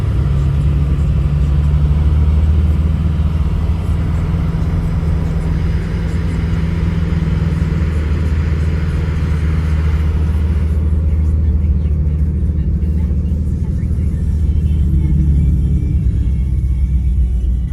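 A car switched into track mode gives off a steady, loud, engine-like synthetic drone from inside the cabin, a constant low hum with slight swells in pitch, while occupants talk faintly under it.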